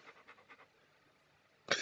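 Dogs in the video game Postal 2 pant in quick, soft, rhythmic breaths, fairly faint, before a sudden loud burst of noise at the end.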